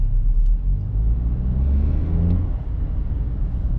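Toyota Yaris Cross gasoline three-cylinder engine running, a loud low rumble heard close up that swells then eases, with a rising whirring tone as revs climb.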